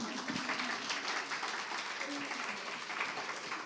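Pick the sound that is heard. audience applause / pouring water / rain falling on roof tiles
audience applause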